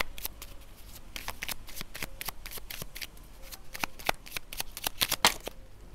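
Oracle cards being shuffled by hand, a steady run of crisp riffling flicks close to the microphone, heard alone without talk.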